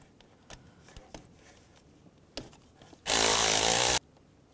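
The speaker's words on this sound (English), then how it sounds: "take this nut off right here." A 10mm socket drives off an exhaust manifold nut on a 2002-2009 Chevrolet Trailblazer, heard as about one second of loud, steady whirring from a power ratchet, with faint clicks and small handling knocks before it.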